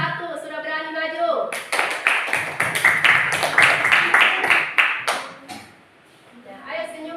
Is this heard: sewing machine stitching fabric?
no